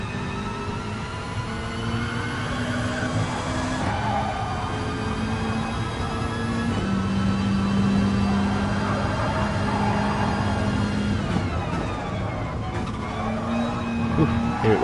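A Subaru WRX race car lapping Suzuka circuit, heard from inside the cabin, with a busy engine note rising and falling through gear changes and sharp turbo flutter bursts at each lift-off, with occasional voices underneath.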